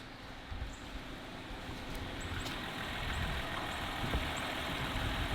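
A BMW engine with a Vanos timing fault idles with a low, steady rumble, close by, with faint high chirps and a couple of brief clicks in the background.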